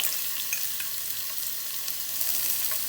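Garlic sizzles and crackles in hot oil in a pan for crab fry, a steady close frying hiss with small pops, no voices.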